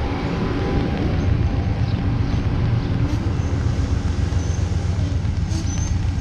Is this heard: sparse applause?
no